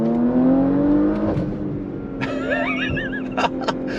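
A 2022 Porsche Macan GTS, an all-wheel-drive performance SUV, pulls away from a slow roll under throttle, its engine note climbing steadily in pitch from close range, with a whirring rise and a few sharp clicks near the end.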